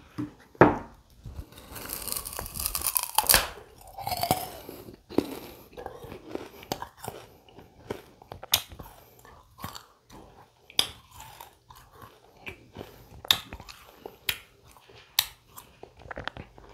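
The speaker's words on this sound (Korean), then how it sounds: "사탕수수 한번 먹어보고 싶었어요" Close, crisp biting and crunching of raw sugarcane for an ASMR mukbang, with irregular wet chewing bursts and a few sharp cracks throughout, heard alone with no talking.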